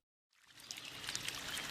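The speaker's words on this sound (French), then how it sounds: "Ça fait longtemps qu'on longe ce ruisseau." A mountain stream in the Basque Country flows steadily with a continuous broadband rush of water, fading in quickly and then staying constant and fairly faint, with no voices.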